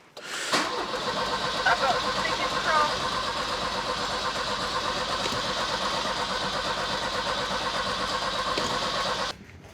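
A Volvo 240 with an ignition coil fault cranks continuously without catching. The starter whirs and churns steadily for several seconds before cutting off abruptly.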